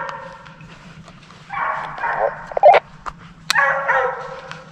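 Hunting hounds bark and yelp in bursts while chasing a coyote, a few close excited barks and yips against a quiet background, with a short whimpering cry between them.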